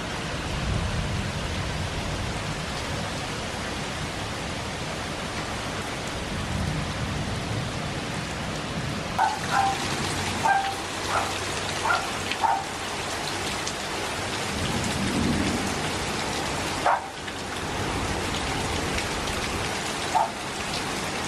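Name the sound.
rain and thunder of a sudden thunderstorm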